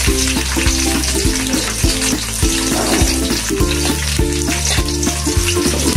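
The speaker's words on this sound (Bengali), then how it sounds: "এটা ভেজে নিব।" Onion sizzles in soybean oil and ghee with a bay leaf, cinnamon sticks and cardamom pod for a beef biryani, a loud, close, continuous frying crackle over a steady background tone.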